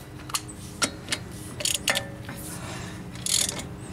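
An old lug nut being run onto a wheel stud of a Jeep Wrangler YJ: scattered close metallic clicks and ratcheting ticks over a quiet hum.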